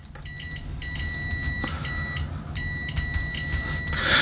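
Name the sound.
continuity test beep of Kaiweets HT-206D clamp meter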